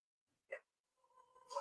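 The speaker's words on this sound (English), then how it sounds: "Oh, that's my dog Lulu barking" A single short dog bark sounds faintly in a quiet room, followed by a brief whine or whimper a second later.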